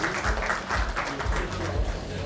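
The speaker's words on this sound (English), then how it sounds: "Give a huge round of applause." Crowd applause with dense, steady clapping throughout, some talk blending underneath.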